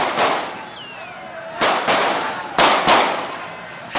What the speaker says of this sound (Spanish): los policías realizaron disparos al aire para dispersar a la multitud.